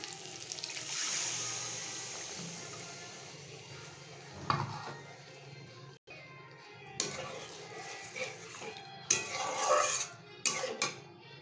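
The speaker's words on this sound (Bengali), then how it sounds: "এবার আমি জলটাকে অ্যাড করছি।" Water goes into a pan of cooked-down masala for egg curry, a rushing pour and hiss at first, followed by clinks of a spoon and pot knocks, fairly quiet and close.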